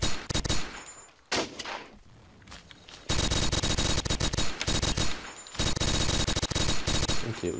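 MG42 machine gun firing in Blockade 3D, loud sustained bursts of rapid automatic fire, with a short burst, a pause, then long continuous streams of shots close by.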